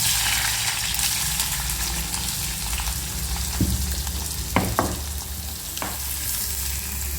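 Mustard seeds and urad dal frying in hot oil in a pan, a loud, steady crackling sizzle close by, with a few sharp pops and a brief scrape partway through.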